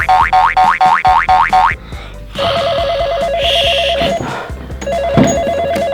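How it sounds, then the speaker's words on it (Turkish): A cartoonish toy phone rings in a quick repeating trill, followed by bouncy boing sounds and electronic beeping tones. "Telefon çalıyor."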